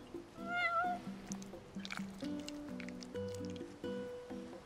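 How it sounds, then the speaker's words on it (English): A cat in Final Fantasy XV gives a clear rising meow over soft in-game music, followed by quieter game sounds. "You're one spoiled cat."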